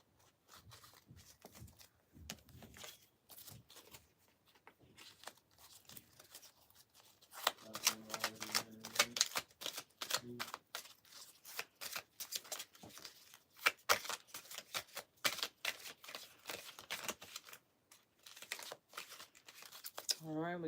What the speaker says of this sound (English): So we just gave those a shuffle.